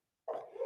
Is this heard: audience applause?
no